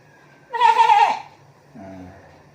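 A person imitates a goat with one wavering, bleating cry, followed by a shorter, lower vocal sound after a pause.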